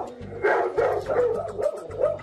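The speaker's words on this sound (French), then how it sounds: "un dog argentin, un chien dont la mâchoire est l'une des plus puissantes au monde" A Dogo Argentino, a powerful molosser-type dog, barks and yips in a string of loud, close barks with brief whines between them and no talking.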